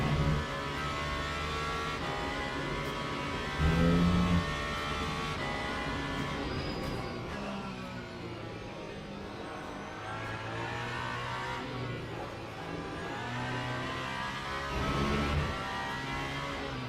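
Race car engine in the racing game Le Mans Ultimate, revving and downshifting with surging, falling pitch over a steady loud drone, punctuated by brief bursts of louder acceleration, no talking.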